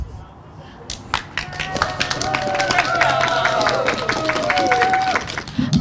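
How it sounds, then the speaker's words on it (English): Applause at a coffee house open mic night after a magic trick swells into a dense patter of claps with cheers and whoops rising above, voices mixed throughout. "give another round of applause for that amazing magic trick"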